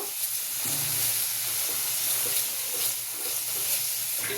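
Spice masala of chilli powder, cumin powder, coriander powder, garam masala and salt fries in a small amount of oil in a pan, giving a soft, steady sizzle and hiss throughout.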